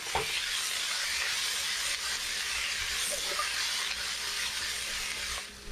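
Vegetables tossed with two big pinches of salt in a smoking-hot pan, sizzling and steaming in a loud, steady hiss that holds for several seconds and eases off near the end.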